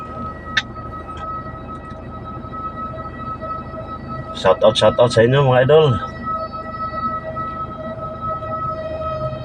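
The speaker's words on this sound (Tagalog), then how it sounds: "Sumisirena yung fire truck." A fire truck siren wails steadily in the distance under constant road noise, heard while driving, with someone speaking briefly and a burst of loud nearby sound in the middle.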